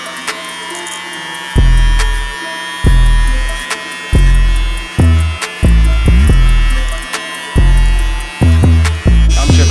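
Electric hair clippers fitted with a number three guard, lever fully open, buzz through a self-cut fade in a series of loud, close strokes, each with a strong low-pitched hum and short pauses between passes.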